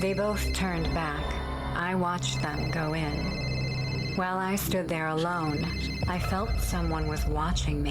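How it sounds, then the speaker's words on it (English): A phone rings repeatedly in bright, regular bursts beneath a continuous narrating voice. "we heard someone's phone ringing"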